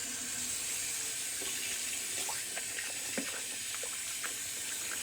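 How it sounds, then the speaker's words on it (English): Cold water runs steadily from a bathroom tap for a rinse after a wet shave, a soft constant hiss and splash with faint scattered drips and clinks from nearby, no voices. "rinse with some cold water"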